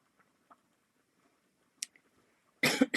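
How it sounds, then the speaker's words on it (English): A single short, sharp cough near the end, loud and close, after a few faint clicks in near silence. "I do have a little bit of a cough today"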